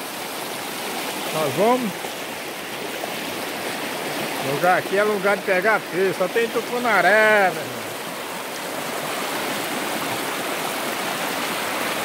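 River water rushes past a riverside fishing spot where tucunaré are caught, a constant broad wash that stays loud throughout while someone speaks over it in short bursts.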